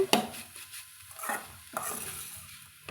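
Amaranth greens cook in a pan as a Tamil-style poriyal with chili powder, a spoon scraping and stirring through them in a few close strokes over a soft sizzle, no voices.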